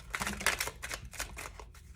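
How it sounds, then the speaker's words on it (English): A deck of tarot cards is shuffled by hand, giving quick papery riffling and soft clicking bursts at close range, with no talking. "So I do just want to tell you guys a little bit about the way I shuffle."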